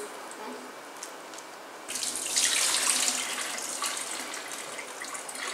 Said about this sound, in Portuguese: escorri a água, aí passo mais uma aguinha nela